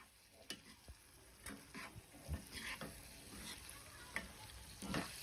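Fried vegetables for Surti undhiyu are stirred in a pan with a spoon, producing soft scraping strokes and light sizzling in a quiet kitchen, with occasional sharper clinks of the utensil.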